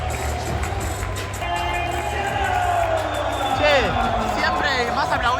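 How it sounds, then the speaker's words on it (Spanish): Arena crowd at an NBA game cheering and applauding for player number 3, a loud sustained roar and babble with a commentator talking over it. "el que se lleva todos los aplausos es el 3"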